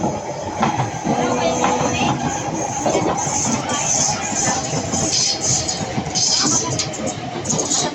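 An MRT train in Ang Mo Kio, Singapore, rumbles past nearby with a steady rolling roar and faint hissing, while people talk in the background.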